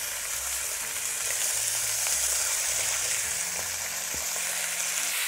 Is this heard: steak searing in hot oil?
yes